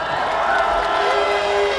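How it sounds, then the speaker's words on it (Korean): Crowd at an outdoor political rally in Gwanghwamun, Seoul, cheering and applauding in a dense, steady wash of noise, with a voice rising through it. "박수 치셔도 됩니다"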